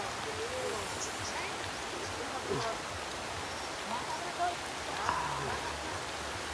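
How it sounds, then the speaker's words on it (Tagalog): Steady rain hisses down, a dense even patter with faint drips and a few soft background sounds. "lumakas yung ulan guys."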